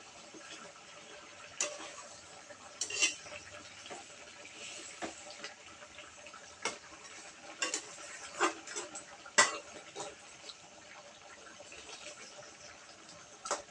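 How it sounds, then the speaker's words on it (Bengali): Spoon stirring fish curry in a pot just after cinnamon powder goes in, with scattered sharp scraping and clinking taps against the pan at close range, fairly quiet with no talking. "দারচিনির গুঁড়া দিয়ে দিচ্ছি দিয়ে একটু নাড়াচাড়া করে দিচ্ছি"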